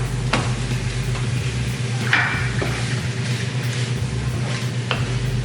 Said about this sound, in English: All right, so just gonna add the shrimp in.